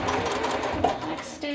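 A sewing machine runs close up, stitching tucks into a bag as it approaches a seam. Its motor hum and stitching clatter are steady, with faint talking underneath.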